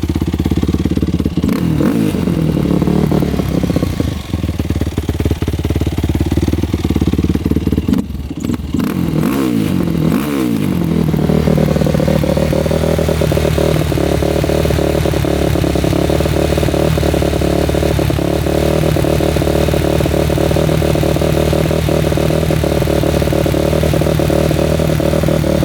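A modded race quad's engine runs loud and close, with a few revs and clattering early on before it settles into a steady, slightly uneven idle after the idle was adjusted down.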